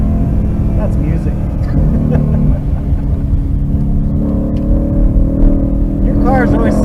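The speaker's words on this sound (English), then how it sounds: "Your cars always sound so good." Race car engines at a high-performance driving event at Utah Motorsports Campus, a continuous loud low droning rumble from a car driving the track, with a faint rising whine near the end.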